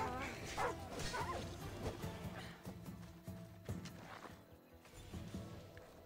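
Dog barking inside the game Assassin's Creed Odyssey, short yips and barks mixed into a busy, loud scene with hoofbeats, crashes and game music.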